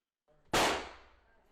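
A single sharp bang of a firecracker or gunshot goes off outdoors, loud and abrupt, then decays over about a second into a fading tail with no talk.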